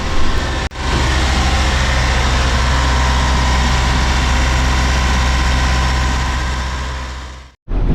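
A loud, steady boat engine on a Balance 526 catamaran idles with a deep low rumble, drops out briefly near the start, then runs evenly before cutting off at the end.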